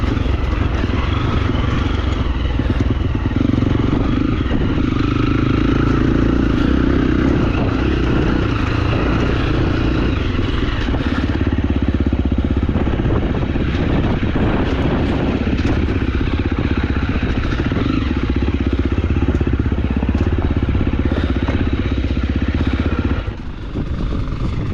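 A dirt bike engine runs loud and close for the whole stretch, a continuous rough drone with steady rattling and clatter and no break in the sound.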